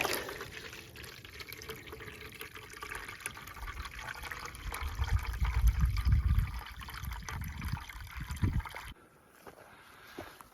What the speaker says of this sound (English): Spun the little nozzle, water coming out.